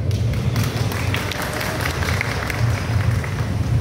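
Crowd applause at a political gathering in a grain market, a dense and loud wash of clapping mixed with crowd murmur throughout.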